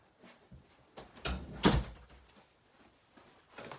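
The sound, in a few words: door being shut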